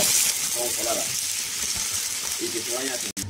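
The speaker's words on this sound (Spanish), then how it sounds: "Sacamos dos ajitos. Lo doramos un poquito. Echamos una setita" Garlic cloves and mushroom pieces frying in a pan give a steady close sizzle throughout, with a voice speaking over it in short stretches.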